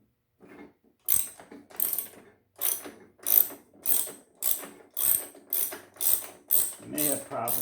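A ratchet wrench clicks in a steady series of about a dozen evenly spaced, close, crisp cranking strokes while the wheels come off a self-propelled lawn mower.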